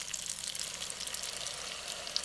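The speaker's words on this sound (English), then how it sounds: "I'm just going to pour a tiny bit in." A small splash of starchy pasta water poured into a hot pan during outdoor camp cooking, giving a steady soft hiss and sizzle with faint bubbling, no voices.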